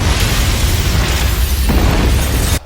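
A loud, sustained explosion from a Tomb Raider movie scene roars as a dense, rumbling blast for over two seconds, then cuts off abruptly.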